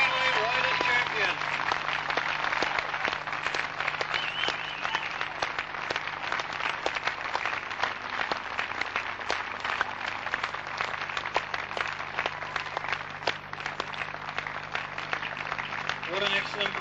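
A crowd applauds a 1993 British Cycle Speedway champion at the senior individual final. The clapping is steady and somewhat distant and runs for the whole stretch over a low hum.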